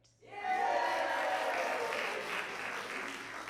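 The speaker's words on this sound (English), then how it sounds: "Round of applause." A theatre audience at an improv show breaks into applause after a brief hush, building quickly into a loud, sustained ovation that holds steady before easing slightly near the end.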